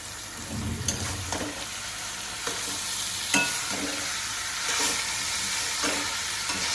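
Grated ash gourd is stirred in a frying pan, with a steady soft sizzle beneath repeated scraping strokes of a spatula, close and moderately loud, with no talk.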